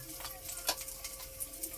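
Soft, steady sizzling of calamay frying in a pan, with faint scraping and stirring clicks throughout.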